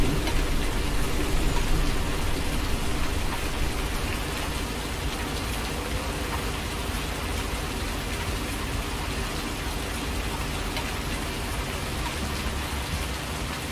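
Rain in a farming video game set in Thüringen, a dense, even hiss of falling drops pouring steadily throughout with no talk, a little fuller at the start and then holding constant.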